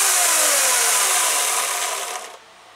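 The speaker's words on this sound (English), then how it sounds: "I'm already loving this chainsaw." A chainsaw runs at a loud, steady high-revving whine, then drops off as the throttle eases near the end, with no talk over it.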